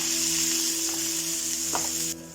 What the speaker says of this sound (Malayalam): ഈ തക്കാളി ഒന്ന് വഴറ്റിയെടുക്കാം